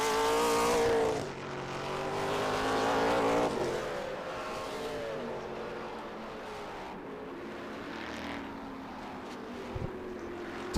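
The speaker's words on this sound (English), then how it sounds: "he's hitting his brake zone, so this might be his flyer, and Barry Bowes right behind him" Trans Am TA2 race cars at turn 1 of a road course, an engine note roaring then dropping as a car brakes into the corner, followed by quieter distant engine drone.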